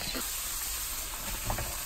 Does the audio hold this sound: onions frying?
yes